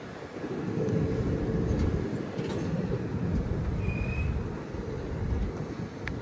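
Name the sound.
train starting from Cherlapalli station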